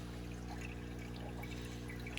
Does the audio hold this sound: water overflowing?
yes